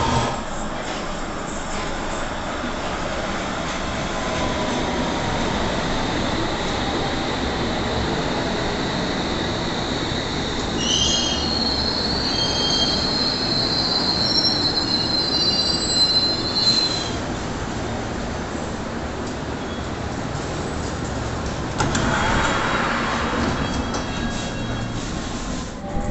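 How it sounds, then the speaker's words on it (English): A London Underground Circle Line train pulls into the station, a loud, continuous rumble of rolling wheels with sustained metallic squealing and screeching rising over it, close and filling the platform for the whole stretch. "now we wait here for a Circle Line train to take me to Tower Hill"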